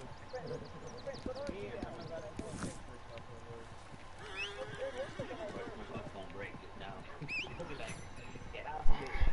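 A horse in the video game Red Dead Redemption 2 neighs and whinnies among clip-clopping hooves, mixed under someone talking and other busy game sounds, ending with a couple of louder thumps.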